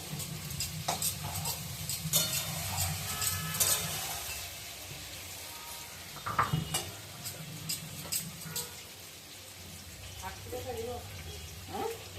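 Potatoes frying in oil in a pan, a low continuous sizzle with scattered clicks and utensil taps as they are stirred, steady and fairly close under light background sounds.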